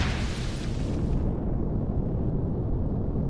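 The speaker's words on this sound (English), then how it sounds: "that darkness does not help my ability to see the guns when they're shooting at me" Gun turrets firing at the player on a moon in Empyrion, a heavy continuous roar of blasts and booms that stays loud throughout, dulling slightly as the hiss fades partway through.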